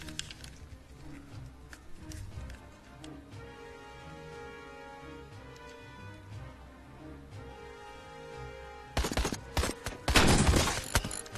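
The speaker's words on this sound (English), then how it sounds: "Let's get our sniper on it." Sniper gunfire in a video game: a few sharp shots near the end sit over busy game music and effects, with a dense burst of cracks and impacts in the last couple of seconds.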